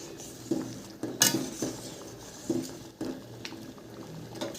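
A spoon clinks and scrapes against a pot while lentil dal with bottle gourd is stirred after boiling, producing several sharp metallic taps at irregular intervals over a soft bubbling background.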